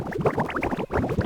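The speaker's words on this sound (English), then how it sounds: "Bubbles." A sampled bubbling water sound used in an experimental jazz beat, a quick cluster of close gurgling bubble pops with a brief pause before the bubbling resumes.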